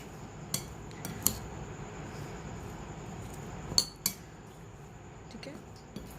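Masala being stirred into chicken keema macaroni in a metal cooking pan, scattered clinks and scrapes of a utensil against the pan over a soft sizzle, with a few sharper knocks.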